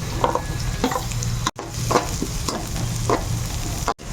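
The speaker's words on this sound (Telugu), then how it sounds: "మనం అందులో ఉల్లిపాయలు, పచ్చిమిర్చి వేసుకొని చక్కగా లైట్ బ్రౌన్ కలర్ వచ్చేంత వరకు వేయించుకుందాం" Onions and green chillies frying in hot oil for a mushroom curry, a loud close sizzle with repeated scraping strokes of a spatula stirring through the pan, two brief cuts of silence.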